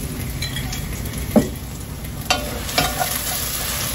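An oyster-sauce mixture is poured into a hot pot for braising and sizzles, a continuous frying hiss broken by a few sharp stirring and utensil knocks, close by.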